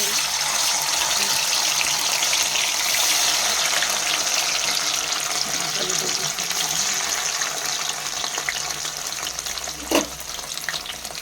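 Paneer cubes frying in soybean oil in a pan give a steady broadband sizzle that runs without a break, with a faint scrape or clink near the end.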